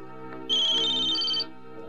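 A telephone ringtone in a Kannada film scene plays as a single bright electronic ring lasting about a second, loud and close over a quiet room background.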